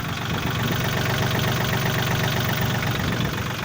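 A 2006 Yanmar US301 compact tractor engine idles steadily and close by, a continuous low rumble with an even rapid knock running through it and no voices.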